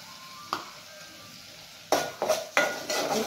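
Masala paste is tipped into hot oil and sizzles in a pan, with a few clattering stirs and scrapes in quick bursts after a quiet start.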